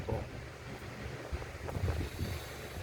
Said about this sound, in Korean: 바람이 세게 부네요.